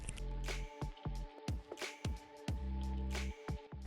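Cake batter for a tutti frutti cake being mixed with milk, giving a quiet run of wet, squelchy stirring strokes repeating in a steady rhythm.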